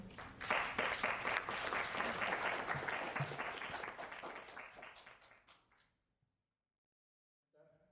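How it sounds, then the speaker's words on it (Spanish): Audience applause at an academic history conference on the Reform War, filling a hall loudly for about six seconds and fading before a voice begins to speak near the end. "Vamos a recibirlo también con un fuerte aplauso."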